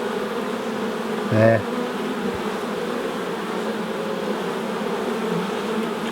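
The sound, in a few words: honey bees on a hive frame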